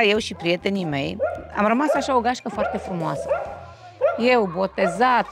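Several dogs bark loudly and yip by a lake as a boat passes, with the barks overlapping and going back and forth while someone talks over them.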